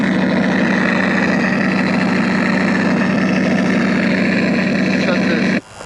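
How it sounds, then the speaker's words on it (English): FreeWing P51D Mustang RC plane sound module playing a loud, steady simulated piston engine drone at three-quarter throttle, a constant rumbling tone that cuts off abruptly near the end. "Shut this loud engine off."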